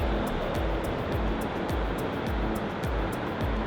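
Ocean surf breaking on an Oregon beach on a misty morning, a steady loud roar of waves with rolling swells and no voices.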